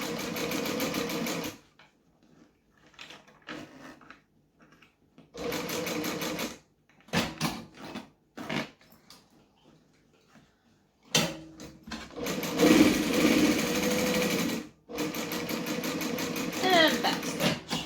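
A sewing machine stitches a seam on a lined Swoon Betty bag, running in several short loud bursts with a pause as the needle is left down to pivot at a corner, while a person talks in the gaps.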